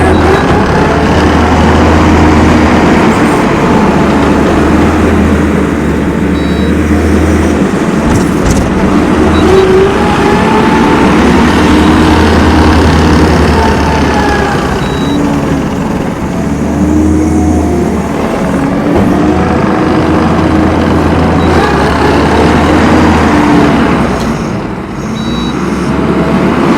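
A 2015 Kubota SVL90-2 rubber track skid steer loader runs with a loud, close diesel drone and low rumble, swelling and easing in waves throughout.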